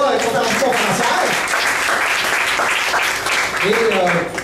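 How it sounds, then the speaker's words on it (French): Audience applause for three conference speakers at a Québec solidaire political gathering, a steady broadband clatter of clapping lasting several seconds with a voice talking over it. "une bonne applaudissement pour nos trois conférenciers conférencières."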